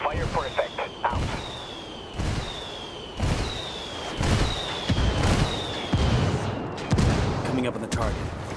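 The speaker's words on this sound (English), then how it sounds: "Call the rebels for some indirect fire. We copy. Fire for effect." Artillery rounds strike during an indirect fire mission in the video game Ghost Recon Wildlands, a steady run of booming impacts roughly once a second, each with a descending whistle before it, loud and continuous with game ambience underneath.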